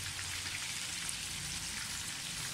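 Minced meat kebabs browning in a frying pan, giving a steady, close, even sizzle of hot oil that carries on without a break.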